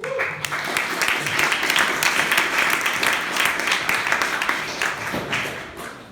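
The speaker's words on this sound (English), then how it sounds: "Let's give Alice a warm applause." An audience applauds steadily for several seconds, dense clapping from a crowd that fades slightly at the end.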